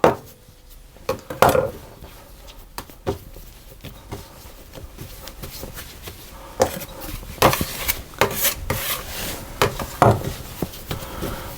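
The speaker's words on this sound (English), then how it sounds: "I'm actually going to just knead that for about a minute or two and shape it into a ball" Seeded wholemeal bread dough being kneaded by hand on a lightly floured work surface, with soft irregular thuds, slaps and rubbing strokes close by, a few louder knocks toward the end.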